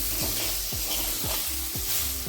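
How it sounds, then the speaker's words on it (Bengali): Potatoes frying in a pan with salt and turmeric, giving a steady close sizzle broken by a few scraping strokes of a spoon, with no voices. "হাফ চামচ লবণ আর হাফ চামচ হলুদ এটা দিয়ে এবার আলুটাকে আমি একটু ভেজে নেব"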